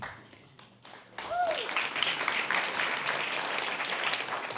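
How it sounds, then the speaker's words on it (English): Audience applause at a Guide Dogs for the Blind graduation ceremony for a California guide dog class. After a quiet opening with a voice, steady clapping swells up and holds at a moderate, roomy level to the end. "give one more big round of applause for our California Class 997 Guide Dog team"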